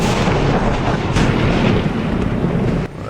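Thunder from a lightning strike in a TV drama breaks as a loud, booming clap that rolls on in a heavy, continuous rumble before cutting off abruptly near the end.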